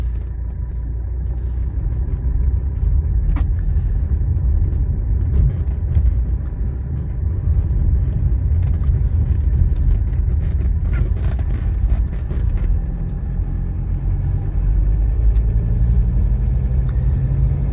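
A 1984 Mercedes 300D classic diesel sedan with 21,000 miles on a test drive, heard from inside as a steady, loud low engine rumble with road noise throughout.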